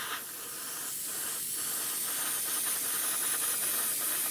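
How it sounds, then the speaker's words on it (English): A spray can of Tamiya light grey paint hisses steadily up close as it coats a model's underside, one continuous spray with no talking. "I'm going to spray some Tamiya paint now, light grey first"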